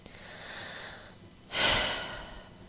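One deep breath drawn in, with a soft airy inhale followed by a louder, rushing breath close to the microphone.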